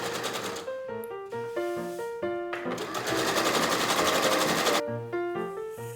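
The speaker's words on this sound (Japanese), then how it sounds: "シフォンスカートにギャザーミシン。" A sewing machine whirs in quick, rapid bursts while sewing gathering stitches on a chiffon skirt, then runs longer, while light melodic music plays alongside.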